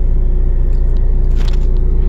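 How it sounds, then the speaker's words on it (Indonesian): A very large truck on a road under asphalt patching, a constant loud low rumble with a pulsing engine throb close by, no voices. "ada truk tuh besar banget di tengah-tengah jalan gitu"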